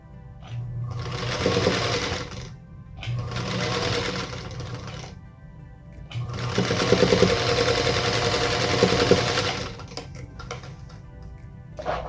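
A sewing machine stitches quilt block strip sets together in three long bursts of rapid, steady whirring and needle clatter. Short quiet pauses fall between the bursts, and the machine sounds close by.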